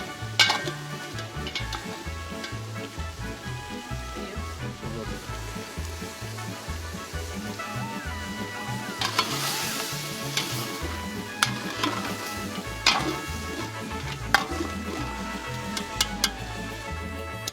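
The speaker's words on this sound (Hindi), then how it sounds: "गोश्त को कुछ खुशबूदार मसालों में तेज आंच पे भूना" Meat sizzles and crackles steadily with spices in a hot pot over high heat, with occasional scraping and stirring clatter from a utensil, close and continuous.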